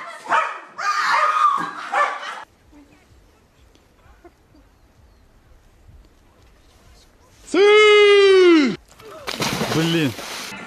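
A puppy lets out a loud, close, drawn-out yelp and then a shorter bark, after a stretch of excited human voices and a quiet pause.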